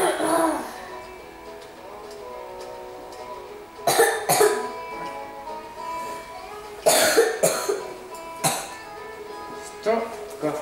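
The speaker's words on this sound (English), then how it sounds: "Stop coughing." Several harsh, broadband coughs come in bursts, up close, with quieter stretches of background noise between them.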